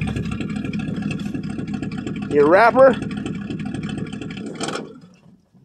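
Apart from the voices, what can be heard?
1965 Ford Fairlane 289 V8 engine running after cold start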